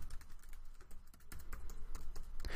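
Keys clatter on a computer keyboard while CSS is typed into an editor, a quick uneven run of close, crisp clicks with no speech.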